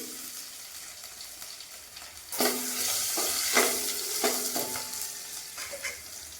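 Crushed garlic fries and is stirred in a pan for rasam, giving a sudden loud sizzle that keeps hissing, with several scraping stirs through it, heard close and without talk.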